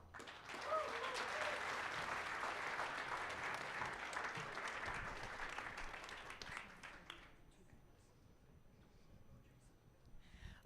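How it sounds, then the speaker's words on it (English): Audience applause at an investment summit after a startup pitch, a dense, fairly quiet clapping wash lasting about seven seconds before fading into low room noise with faint talk. "Another round of applause."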